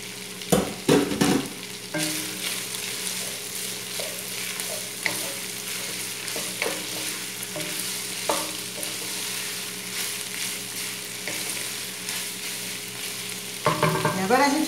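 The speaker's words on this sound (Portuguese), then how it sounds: "Já começou então a fritar o frango, ele deu uma cozidinha também." Chicken pieces frying in a pan with chopped tomatoes added, a steady close sizzle running throughout, with utensil clatter and stirring knocks near the start and end.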